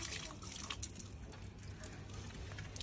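Tap water runs steadily into a sink during a fridge cleaning in an Indian home, a continuous broadband splashing hiss with a few brighter drips, fairly faint and unbroken throughout.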